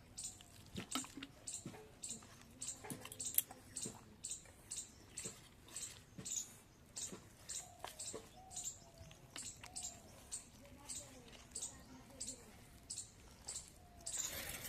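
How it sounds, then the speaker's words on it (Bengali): Rice flour and yogurt batter is mixed while water is added little by little, giving a faint, steady series of rhythmic stirring strokes roughly twice a second, with no voices. "এবার অল্প অল্প করে জল মিশিয়ে মিশিয়ে আমি একটা ব্যাটার তৈরি করে নেব।"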